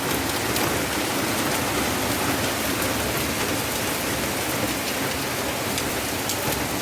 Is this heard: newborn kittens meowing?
no